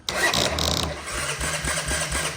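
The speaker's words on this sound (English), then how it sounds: "We're gonna try a little fire him up, maybe a little starting fluid, see if she wants to fire for us." A Honda FourTrax 300 quad engine cranks with rhythmic starter pulses and then catches and runs, loud and close.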